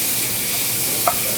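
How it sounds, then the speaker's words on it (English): A steak sizzles in a smoking-hot pan, a steady bright hiss of frying fat with a brief sharper crackle near the end and no talking. "All right, so my pan is smoking. I'm gonna add my steak."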